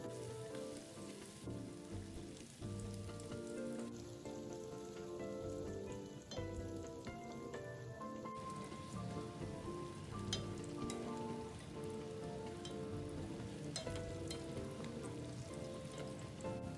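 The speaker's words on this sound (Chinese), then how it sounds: "接着将茄子也放入过个油。" Eggplant pieces being deep-fried in hot oil give a steady dense crackle and sizzle throughout, with a high hiss and some clinks and stirring sounds layered on top.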